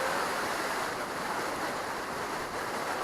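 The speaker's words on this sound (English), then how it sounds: "The waterfall may be 60 feet high" Waterfall about 60 feet high in the Quinault rain forest, Olympic Peninsula, Washington, giving a steady broadband rush of falling water, continuous and even, heard from a moderate distance with no voices.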